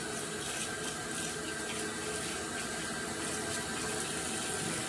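Tap water runs steadily into a sink, rinsing out soapy bubbles with a continuous close splashing rush and no pauses.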